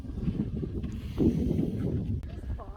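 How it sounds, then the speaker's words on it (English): Wind gusts outdoors at Windjana Gorge in the Kimberley, a steady broadband rush with one stronger buffet near the middle, buffeting the microphone throughout. "A little bit of wind today."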